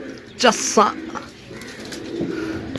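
Pigeons kept for sale at Sarai Alamgir, Jhelum, coo softly in the background while someone talks over them, with two louder bursts early on.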